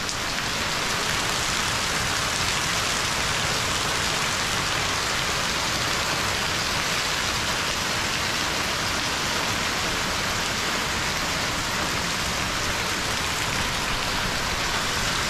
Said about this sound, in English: Oh yeah, it rains here.